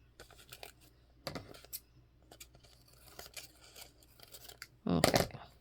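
Scissors trimming scrapbook paper for a small butterfly booklet journal, with a run of quiet close snips and a louder, longer cut at the end, and no talk.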